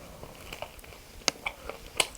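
Close, crisp bites into a flaky layered bakery pastry, producing a string of sharp crunches and crackles at an irregular pace, with the loudest snaps near the middle and end.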